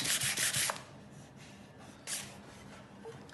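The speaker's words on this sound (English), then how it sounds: "So now it's trimmed in close enough with the knife so that I can just sand that so that's absolutely flat." Sandpaper rubs over a wooden neck for a custom Fender Jazz Bass to flatten it, a close, raspy scrubbing in strokes that is louder at first, eases off, then surges again briefly.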